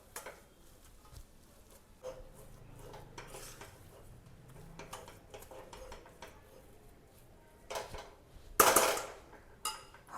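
Boiled potatoes being stirred into masala in a pan for aloo paratha filling, with faint, scattered utensil scrapes and taps against the pan, then a louder clatter of metal near the end.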